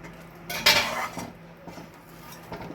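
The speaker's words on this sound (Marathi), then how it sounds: "हे आता एकजीव करून घेऊया सर्व फोडणी" A metal spoon stirs and scrapes through a tempering in a pot while cooking raw mango kadhi, with a clear clatter burst near the start followed by quieter scraping and clinks, close up, no talking.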